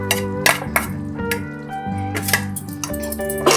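Paneer bhurji stirred in a pan with a utensil, giving repeated close metallic clinks and scrapes against a steady low kitchen hum.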